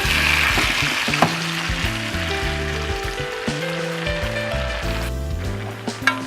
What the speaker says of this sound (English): We're putting them in this brown butter.